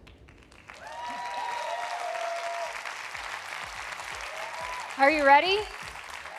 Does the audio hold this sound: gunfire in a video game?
no